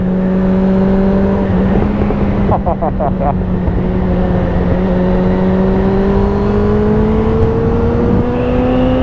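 A Suzuki GSX-F 600 motorcycle engine under way, a loud, steady, tonal engine note that rises gradually in pitch as it accelerates, with a brief rattling flutter partway through.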